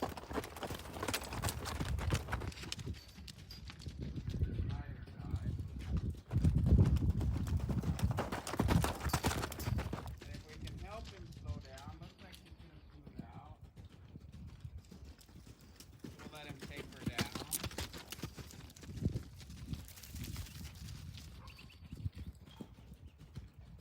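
A horse's hooves beat a steady three-beat lope in a riding arena, a loud rhythmic clip-clop that keeps going throughout. A rider talks intermittently over the hoofbeats.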